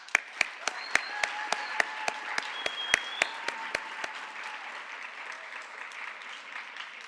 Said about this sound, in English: please give a huge round of applause for tonight's Honors Award winners, graduates, and PTK inductees